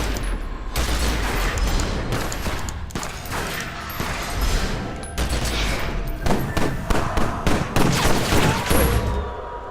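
Dense, loud bursts of gunfire fill a Secret World Legends fight against a Reaper, a near continuous fusillade of overlapping shots with a brief lull before the firing picks up again.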